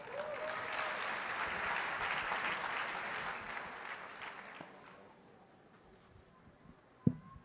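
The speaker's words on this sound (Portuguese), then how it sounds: "receba o pastor Eduardo com um aplauso" A church congregation applauds a pastor at an evening service, sustained clapping that swells and then fades away over several seconds, ending with a single sharp thump.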